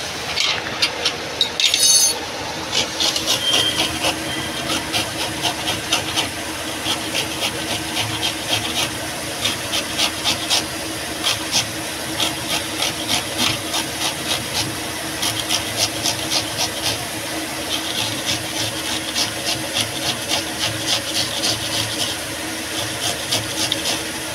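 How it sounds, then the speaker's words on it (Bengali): Mango rubbed against a hand grater in a kitchen, a repeated rasping scrape in a steady back-and-forth rhythm, close and fairly loud. "এই যে আমটা রেখেছি, এটা আমটা আমি কদ্দুকস করে দেবো। আমটা ঘষে"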